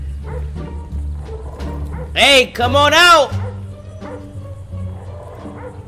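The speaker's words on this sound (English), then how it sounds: "It's a dog barking." A dog barks and yelps from inside a house in the video game GTA 5, a short burst of close, loud, strained barks, while someone talks over the background game noise before and after.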